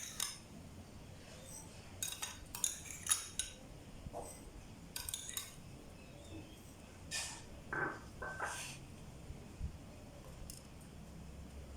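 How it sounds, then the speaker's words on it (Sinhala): Sugar spooned into a drinking glass for homemade lemonade: a series of light, scattered clinks and scrapes of a metal spoon against glass, quiet and close, with short gaps between strokes and no talking. "දැන් වීදුරුවක් අරගෙන මම සීනි මේස හැඳි 4ක් දාගන්නවා."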